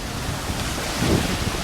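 Ocean surf washing in at Gold Coast beach in Gensan where children play in the waves; a steady, close rush of water and wind noise with a slight swell near the end.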